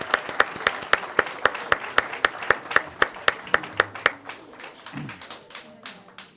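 Parents at a school board of trustees meeting clap in a brisk, even rhythm of sharp, close hand claps that thin out into scattered, softer claps toward the end.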